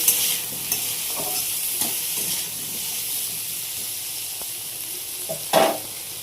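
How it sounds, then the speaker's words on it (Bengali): Potatoes with salt and turmeric sizzle in a black wok, a continuous close hiss punctuated by a few soft stirring knocks and a sharper scrape near the end, with no one speaking. "দিয়ে আলুগুলো একটু ভাজা ভাজা করে নেবো"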